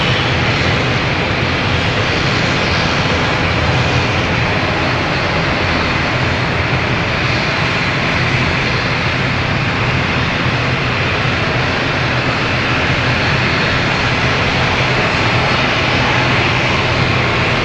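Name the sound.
Embraer E195-E2 aircraft at London City Airport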